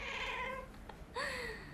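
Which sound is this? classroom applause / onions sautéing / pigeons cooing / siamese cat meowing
siamese cat meowing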